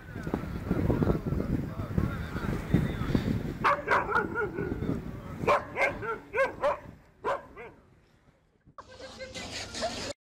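A dog barks and yelps at a cat in a series of loud, close barks and short whines, with background noise and a brief near-silence before a final burst.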